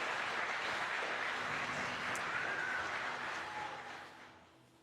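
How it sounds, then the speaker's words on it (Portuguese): A church congregation claps for the media team, a soft, distant patter of applause that stays steady for a few seconds and then fades away. "Pode bater palma para esse pessoal da mídia."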